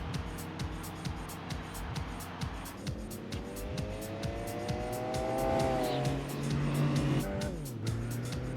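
A race car in Gran Turismo 4 screams at high revs throughout, its engine pitch climbing and falling through gear changes, with tire squeal near the end, loud and close with no talking.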